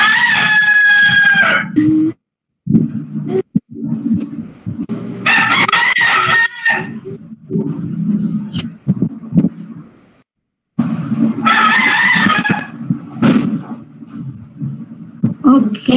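Loud, close rooster crowing in two long bursts separated by a short silence, with clucking and background voices talking between the calls, heard during an online parenting seminar.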